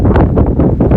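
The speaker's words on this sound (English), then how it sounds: "That tells you how windy it is" Strong wind on Mt Helena buffets the microphone in a loud, rumbling, gusty roar that fills the whole brief moment, with no other sound coming through.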